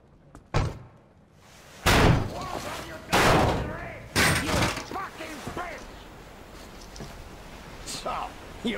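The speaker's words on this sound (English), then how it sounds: "The door's giving! Let's give it a shove, Artyom!" In the video game Metro Exodus, a heavy door is shoved repeatedly, giving four loud slamming thuds about a second apart with metallic rattles between them, under shouted talk and game ambience.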